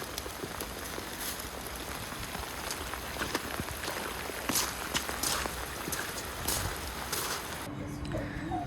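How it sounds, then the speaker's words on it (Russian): Steady rain falls and patters on a surface, a continuous hiss broken by occasional louder drips. "У нас до утра обещают дождь."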